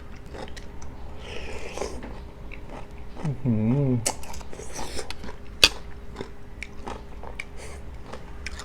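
Roselle being bitten and chewed during a meal of Thai bamboo-shoot curry with mushrooms. Soft, close mouth sounds sit under light background noise, and a voice speaks briefly partway through.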